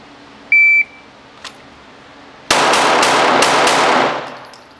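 Rapid string of gunshots fired at an outdoor shooting range, a loud close burst of several quick shots lasting about two seconds, preceded by a short electronic timer beep and then fading into quiet.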